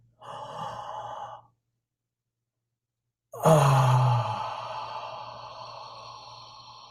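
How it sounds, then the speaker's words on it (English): A deep breath taken in during a calm breathing practice, a short breathy inhale, then silence, then a long, loud sighing exhale that slowly fades, close up with no talking. "every 5 seconds, you take a deep breath."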